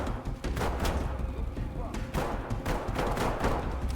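Dense bursts of video-game gunfire in a hostage shooter, loud and near, with repeated sharp shots layered over a busy mix.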